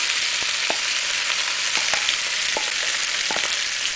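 A mashed potato and tuna hash mixture fries in hot oil in a pan, giving a continuous bright sizzle with a few soft scraping stirs, and no voices.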